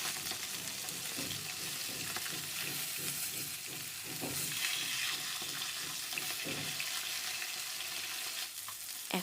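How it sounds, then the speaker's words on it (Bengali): Fish heads fry in a pan while being turned over, giving a continuous sizzle with rhythmic scraping of a spatula and occasional clatter, moderately quiet and without speech. "এদিকে মাছের মাথাগুলোকে একটু উল্টে দিচ্ছি।"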